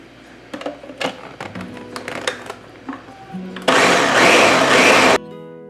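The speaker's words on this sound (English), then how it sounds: "I'm going to go ahead and pulse this in the blender until the strawberries are blended up" Strawberries are pulsed in a blender into puree: tapping and handling come first, then a loud, steady whirring burst of about one and a half seconds that stops abruptly.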